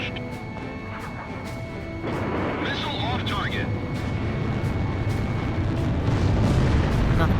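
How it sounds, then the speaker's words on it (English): A missile roars off and strikes in the jet combat game Ace Combat Zero, a thick rumbling blast that swells louder over a steady engine roar, with a brief whistling tone partway through and talk over the top. "Missile hit. Missile launched."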